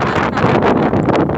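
Strong wind buffets the microphone on a beach on a windy morning, a loud continuous roar with gusty surges, rough waves likely blended in.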